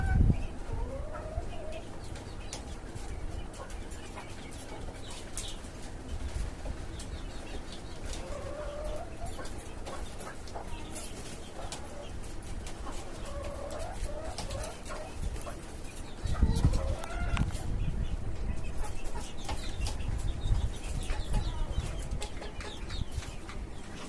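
Native chickens on a rooftop farm cluck and murmur repeatedly at close range, with scattered rustling and a brief flutter of wings over a low background hum.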